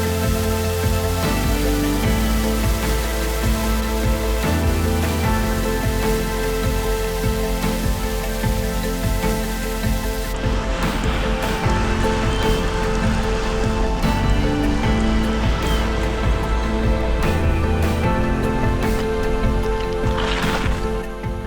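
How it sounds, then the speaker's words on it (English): A small waterfall in the Scottish Highlands, fed by a half-frozen loch, gives a steady, loud, broadband rush of falling and splashing water that continues unbroken from start to finish with no voices. "I set off to explore this wee waterfall, fed by a small, half-frozen Loch"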